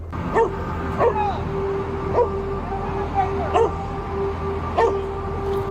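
A police dog barks in a patrol vehicle during a police pursuit. The sharp, loud barks and yips come roughly once a second in a steady rhythm over a constant low engine rumble.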